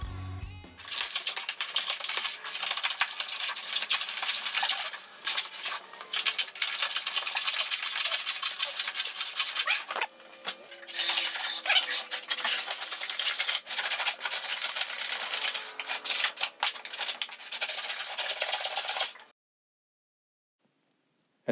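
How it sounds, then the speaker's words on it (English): A Stanley No. 78 rabbet plane shaves a wooden tenon for a farmhouse table's breadboard ends, giving long, steady rasping strokes close up that break at a short pause midway and stop near the end. "we're going to plane this stuff down and on both sides to get the tenon to the exact thickness that we want"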